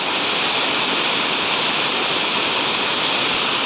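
Waterfall water splashes and sprays like a fountain in a natural forested hillside setting, a steady, loud, continuous rushing hiss with no other sounds.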